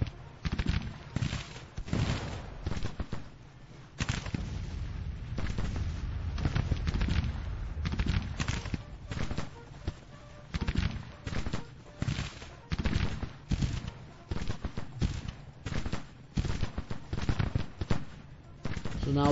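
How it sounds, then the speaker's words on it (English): Artillery fire in the Grand Tactician video game, an American Civil War strategy battle, rolls on as repeated booms and crackling volleys in uneven bursts, layered with other battle noise, while someone talks over it. "Oh, that's the artillery."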